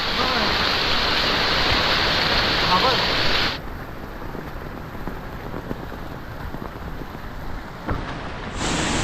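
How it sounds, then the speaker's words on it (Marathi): Forceful rainwater rushing down a stream in Konkan during heavy monsoon rain, a loud broad roar that drops to a lower rushing wash partway through, then swells again near the end. "तर खतरनाक पाणी आलं हे बघा असं पाणी येतं वाळाला आपल्या"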